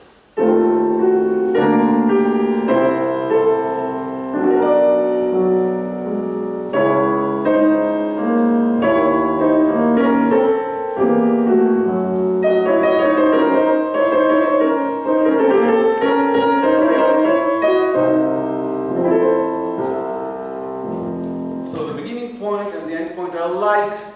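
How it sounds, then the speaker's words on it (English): Dense, loud instrumental dance music in a distorted Romanesca style, medieval-sounding with layered melodic lines and a steady pulse, turning more chaotic and warped toward the end. "I turned it to a distorted Romanesca, which sounds like this."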